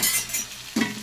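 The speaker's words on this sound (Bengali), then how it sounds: "আমি আলুটাকে বেশ ভালো করে ভেজে নেব" Potatoes fry in a pan with a close, steady sizzle and a spatula scrape or stir near the end of the brief moment.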